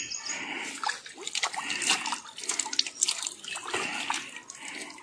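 Clear spring water pours and trickles from a rock on a rain-soaked forest mountain trail, a close, steady splashing and dripping that runs on alone without any voices.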